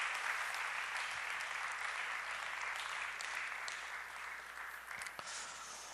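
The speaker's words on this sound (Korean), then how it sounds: "한 번 더 인사하고 박수하면서 들어가겠습니다." A congregation at a Korean church service applauds after a prayer, with dense, steady clapping that fills the room and tapers slightly toward the end.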